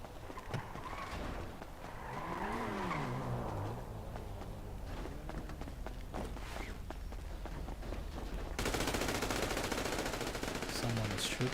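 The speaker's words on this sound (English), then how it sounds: "Someone is shooting." Gunfire in GTA 5 during a truck-delivery job around Los Santos, rapid bursts of automatic shots crackling amid steady engine and traffic noise, with a brief voice and a louder, denser stretch near the end.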